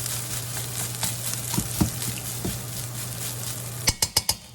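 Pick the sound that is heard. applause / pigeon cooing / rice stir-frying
rice stir-frying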